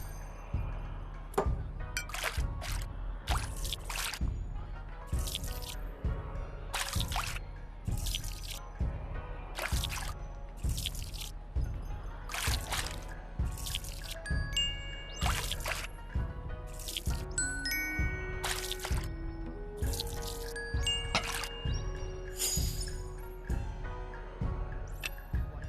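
Water scooped into a wok in the VR cooking game Lost Recipes, set in ancient China: a long run of evenly spaced, crisp drip-like splashes over a steady low background tone with faint melodic notes.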